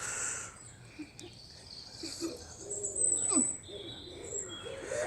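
Crows call outdoors in a short run of cries at moderate distance, with calls overlapping at times above a quiet open-air background and no talking.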